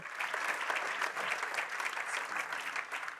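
Sustained applause fills a plenary hall of the European Committee of the Regions as the new president is elected by acclamation, a dense, even wash of many hands clapping throughout.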